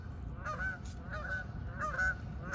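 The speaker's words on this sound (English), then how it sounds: "Oh, geese. Stupid geese." Geese honking repeatedly beside water where someone is fishing for bluegill and bass, a loose series of nasal calls in short bursts over a steady outdoor rumble, fairly close and clear.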